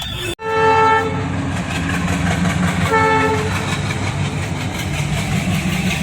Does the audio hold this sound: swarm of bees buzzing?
no